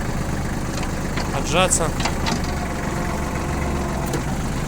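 A Japanese tractor with a front loader and sheaf grab idles at about 1000 rpm, its engine holding a steady low rumble throughout while a person speaks briefly over it.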